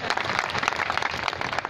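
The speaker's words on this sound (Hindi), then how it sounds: "ताली बजा लीजिए साहब।" Brief burst of audience applause at a gathering honoring a farmer, dense steady clapping from a crowd with no voices over it.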